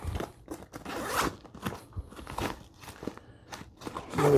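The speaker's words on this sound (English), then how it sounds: "Another zipper. These zippers, man, they feel super tough." Zippers on a 5.11 Rush 72 backpack are pulled open and closed in quick repeated strokes, close and crisp, mixed with handling and rustling of the pack's tough fabric.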